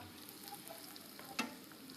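Chilli powder fries in a hot tempering for Andhra-style dal, giving a soft, steady sizzle with one brief sharp crackle partway through, close and alone with no voices.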